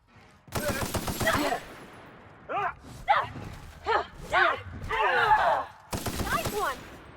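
Gunfire rattles through a battle in the video game The Outer Worlds: loud automatic bursts open the fight, followed by grunts and gasps from combatants in between, then another burst of fire near the end.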